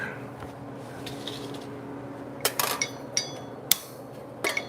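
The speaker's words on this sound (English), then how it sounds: "Hit that with the hammer, make it work" A hammer strikes a taillight part on a 1968 custom VW: a handful of sharp, irregular metallic taps, with a quick cluster and a louder single blow, over a steady low workshop hum.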